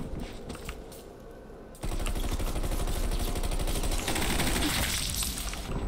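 Rapid automatic gunfire from a weapon in a first-person shooter video game, a fast, dense string of shots that starts abruptly and runs steadily to the end.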